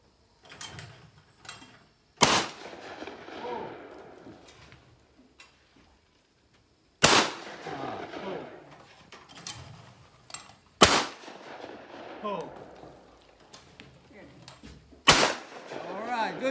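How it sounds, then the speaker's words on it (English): Shotgun shots at skeet targets on an outdoor range, four loud single blasts several seconds apart, each trailing off into open-air echo, with people talking between shots. "Good shot, Brad."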